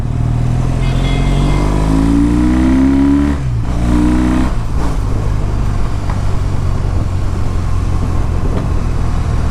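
Triumph Bonneville T100 motorcycle engine revving up with a rising pitch, then cutting off with a couple of sharp pops and a backfire crack as the revs drop back to a loud, close idle-like rumble.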